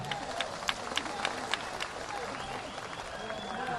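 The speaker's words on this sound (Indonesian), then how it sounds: "Tepuk tangan untuk semuanya." An audience at a Democrat party national leadership meeting in Indonesia breaks into applause, scattered sharp claps over a busy crowd murmur that fades into a steady hum of voices.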